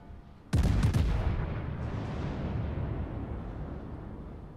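A warship's naval gun salvo in a video game: a single massive, sharp multi-gun blast that rolls into a long, slowly fading rumble.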